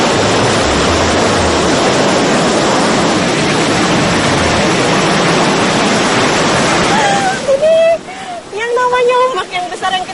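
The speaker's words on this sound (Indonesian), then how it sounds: "Ombak yang besar yang kita harus mundur." Big ocean waves on a south Java coast reef give a loud, continuous roaring rush of surf, close by, for most of the clip, then ease as people's voices take over near the end.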